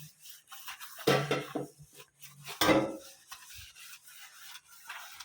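Scrubbing and rubbing against a greasy cooking pot in short bursts, with two louder scouring strokes, fairly close and quiet, with no talking.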